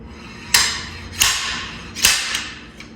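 Three sharp, loud metallic hammer whacks on an engine part, spaced under a second apart, each ringing briefly, followed by a fainter tap, with no talking.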